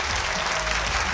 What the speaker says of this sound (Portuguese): tem que aplaudir mesmo.